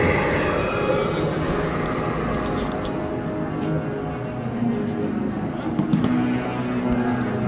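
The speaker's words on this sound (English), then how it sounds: "Enjoy the sights and sounds of the train cycling on the helix overhead and above." A train cycles along the helix track overhead at Magic Kingdom, Walt Disney World, a steady rolling rumble of wheels on rails with faint squeals, moderately loud and continuous throughout.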